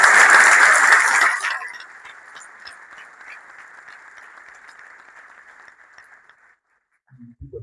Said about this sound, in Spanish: Bien merecido el aplauso para Néstor.